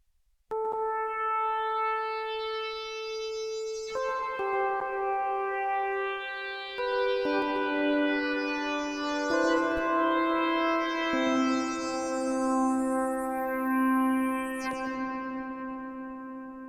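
A synthesizer plays a slow sequence of sustained notes with shimmering sweeps, each note ringing and blending into a spacious reverb tail.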